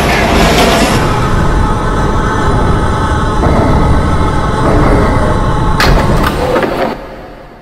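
A Manhattan-bound 6 subway train approaches the station, a loud sustained rumble and rail roar filling the platform, with sharp screeching squeals near the end before the noise fades.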